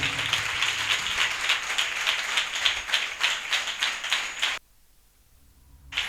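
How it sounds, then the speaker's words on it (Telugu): An audience claps to welcome the preachers, a loud, sustained burst of many hands clapping together for over four seconds that stops abruptly, leaving near silence before a faint sound returns. "చప్పట్లు కొడుతూ దైవజనులను ఆహ్వానిద్దాం గట్టిగా గట్టిగా"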